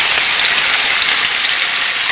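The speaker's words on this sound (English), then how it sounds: "Put your oil in the pot and then you put your seasoning" Onions, green and red peppers hit hot oil in a pot for Jamaican saltfish and butter beans, giving a loud, steady, close sizzle of hissing frying with no talk over it.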